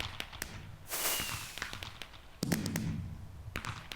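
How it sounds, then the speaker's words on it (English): Minecraft fireworks go off in the game in a quick string of sharp crackling pops and bangs, with a brief whooshing burst near the start and scattered tapping snaps throughout. "Fireworks."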